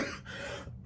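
A person lets out a short cough close to the microphone after a moment of quiet, a single abrupt burst while suffering from a cold, with a brief throat sound just before it.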